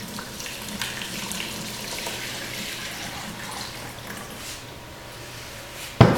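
A stirred raku pottery glaze mixture is poured into a bowl, giving a steady, soft liquid trickle and splash close by that ends in a sharp knock.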